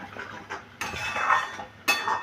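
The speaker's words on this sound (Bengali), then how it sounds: "এবারে চিংড়ি মাছের সাথে পটলটা ভালো করে আমি মিশিয়ে নিচ্ছি" A utensil clinks and scrapes against a pan while prawns and pointed gourd are mixed with a little turmeric. There are a few sharp metallic knocks between softer stirring, close by.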